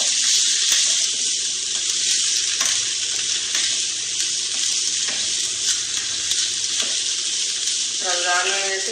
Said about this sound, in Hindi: हम 5 मिनट के लिए गोश्त को अच्छी तरह फ्राई करेंगे।